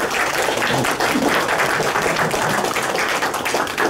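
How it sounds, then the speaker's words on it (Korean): An audience at a Korean lecture applauds, a dense, steady wash of many hands clapping at close range that holds through the whole stretch without voices. "우리 두 분한테 박수 한번"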